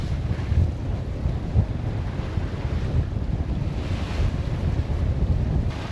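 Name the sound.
sailboat bashing into ocean waves, wind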